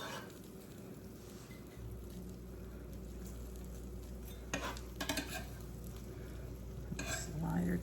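A tuna melt sandwich sizzling in a pan, a soft steady fry hiss close by, with a few light clinks of a utensil near the end and no talking.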